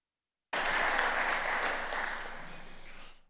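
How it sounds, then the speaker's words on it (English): Senate chamber members give a round of applause that starts abruptly, stays full and sustained, then gradually thins out toward the end. "if the body would just give her a round of applause"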